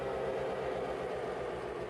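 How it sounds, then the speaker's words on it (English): An out-of-control train in a video game gives a constant heavy rumble with a faint rhythmic clatter, steady and loud, with no voices. "The train's out of control."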